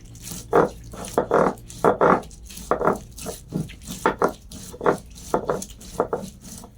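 Spices are ground by hand on a stone slab (shil), heard up close as a steady rhythm of about a dozen scraping, rubbing strokes, each a short gritty burst followed by a brief pause.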